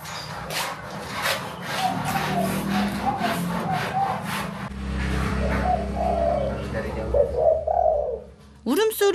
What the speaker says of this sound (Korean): 울음소리 들으니 비둘기 맞죠?